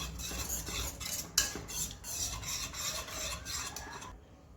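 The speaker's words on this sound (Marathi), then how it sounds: "हे पूर्ण मिश्रण आटेपर्यंत आपल्याला असंच ढवळायचं" A thick saffron barfi sweet mixture is stirred in a pan, giving a continuous close scraping and rubbing with one sharper knock, then the sound cuts off abruptly.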